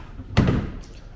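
A desk drawer slides open in a hotel pool villa room, one short wooden thump and rumble followed by a faint click, close and alone.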